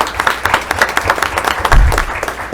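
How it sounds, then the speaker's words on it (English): An audience applauds at a school district board meeting, a short burst of dense, steady clapping from many hands throughout. "So we want to applaud our CTE and our teachers and Mr. Moreno"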